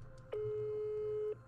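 A telephone call tone heard when a number is dialled again: one steady, clean beep held for about a second, moderately loud over faint background hum.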